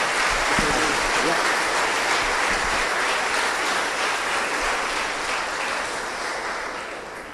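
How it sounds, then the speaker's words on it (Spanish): A church congregation applauds together, a loud, steady wash of clapping that holds for several seconds and slowly tapers off, with some voices mixed in at the start. "Vamos a aplaudir a Dios"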